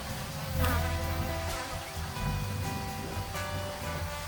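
Honey bees crowding an in-hive sheet pan feeder of sugar syrup with small twigs for floating, giving a continuous close buzzing hum with rising and falling swells, with no talking.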